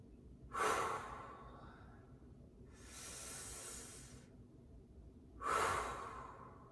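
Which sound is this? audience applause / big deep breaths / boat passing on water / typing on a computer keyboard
big deep breaths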